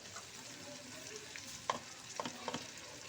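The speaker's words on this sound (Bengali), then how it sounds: "এই পেঁয়াজটার সঙ্গে মশলাটা খুব ভালো করে ভেজে নেব।" Onion frying in a pan with salt, chilli powder and turmeric powder, giving a soft steady sizzle with a few light stirring clicks and scrapes near the end, quiet and close.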